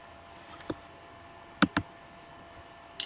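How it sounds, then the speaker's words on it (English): A few isolated clicks on a computer keyboard, a single tap followed a second later by a quick pair of keystrokes and another faint tap at the end, close and quiet over a hushed room. "When I type in Valentine"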